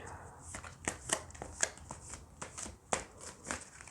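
Tarot cards are shuffled and handled close up, with quick irregular riffling flutters and soft slaps repeating over four seconds, fairly quiet with no voice over them.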